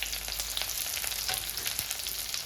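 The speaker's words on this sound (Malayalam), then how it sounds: "കടുക് പൊട്ടി വരുന്ന പരുവത്തിന് നമുക്ക് അരിഞ്ഞു വെച്ചിരിക്കുന്ന ചെറിയ ഉള്ളി ഇട്ട് കൊടുക്കാം" Mustard seeds, shallots and dried chillies fry in hot oil for a Kerala-style okra and prawn curry, giving a steady close sizzle with scattered crackles and pops throughout, with no voices.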